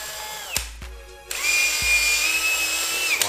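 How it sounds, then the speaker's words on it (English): A power drill bores through pressboard: a few knocks come first, then a loud, steady whining drill drone runs through the second half without a break. "We're gonna drill through this."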